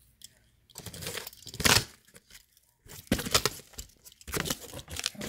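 Packaging on a shipped box holding a 2019 Volkswagen eGolf drive battery module is torn open by hand, giving several loud, close bursts of ripping and crinkling separated by short pauses.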